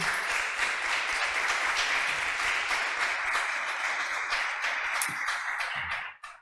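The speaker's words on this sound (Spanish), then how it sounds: "Le damos un aplauso" A conference audience at a web performance talk gives a steady round of applause lasting about six seconds before it abruptly stops.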